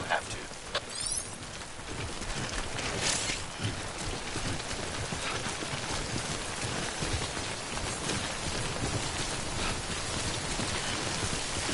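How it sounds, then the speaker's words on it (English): Steady rain from the Death Stranding game falls as a dense, continuous hiss of timefall, with scattered close drop spatters and a few brighter splashes early on, no voices present. "Don't stay out in the rain any longer than you have to."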